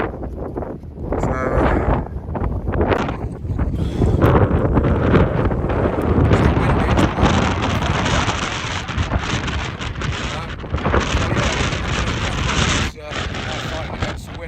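Strong wind buffets the microphone on the South Downs Way hiking trail, a loud steady roar with gusty swells that runs through the whole stretch.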